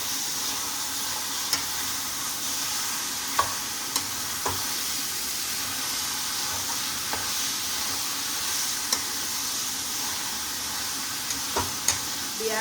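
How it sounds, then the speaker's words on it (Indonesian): A pan of lemper filling is stirred while frying, with a constant sizzle and periodic scraping knocks from the utensil at a steady, unhurried pace, close up with no talking. "Aduk-aduk dulu."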